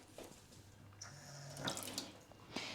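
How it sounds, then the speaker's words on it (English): Wild garlic is rinsed under a running kitchen tap, a soft, continuous splash and patter of water against the leaves, fairly quiet and close, with no voices. "So I'm going to rinse it well and then chop it with my parsley."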